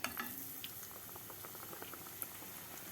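Breaded chicken escalope bubbles and crackles steadily in hot frying oil, a dense continuous sizzle with small pops, close and alone with no talk.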